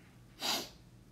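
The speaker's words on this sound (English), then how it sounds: "I'm gonna sneeze." A single short, sharp human sneeze, fairly faint, bursting out briefly against a quiet room.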